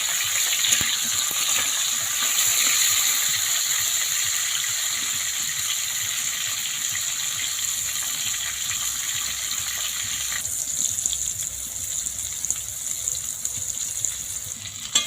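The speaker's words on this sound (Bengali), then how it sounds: "তেলটা গরম হয়ে গেছে তেলের মধ্যে দিয়ে দেবো পটলগুলো" Pointed gourd (potol) pieces fry in hot oil, giving a steady close sizzling hiss that eases somewhat toward the end.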